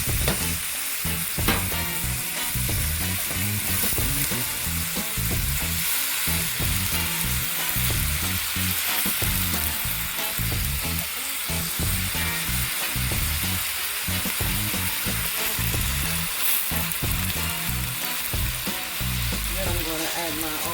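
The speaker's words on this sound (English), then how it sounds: "Now I'm going to add my cabbage." Cabbage stir fry sizzles and crackles loudly in a hot pan, a dense continuous frying hiss with frequent pops and stirring scrapes throughout, no voices over it.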